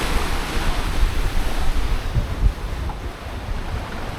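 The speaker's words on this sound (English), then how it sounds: "some of the waves are really steep" Steep, short Atlantic waves rush and crash against a Lagoon 51 sailing catamaran, a loud, continuous roar of surf mixed with wind buffeting the microphone, with no talking.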